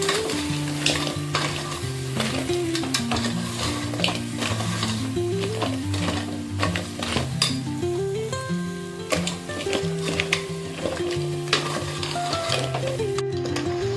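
Crabs sautéed and stirred in a pan for a spicy Konkan-style curry, with a constant close sizzle and repeated clinks and scrapes of a spoon against metal, all under steady background music.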